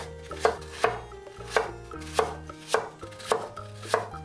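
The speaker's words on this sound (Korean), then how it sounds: "사과 두 개는 껍질을 깎고 씨를 빼고 한 입 크기로 자릅니다." A knife cuts peeled, cored apples into bite-size pieces on a cutting board, striking sharply about every half second for eight or so close, even chops, with no talking.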